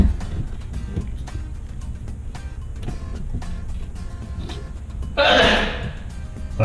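A sharp, breathy sneeze bursts out near the end, loud and close, rising briefly above a steady low background hum in a kitchen during a faucet installation.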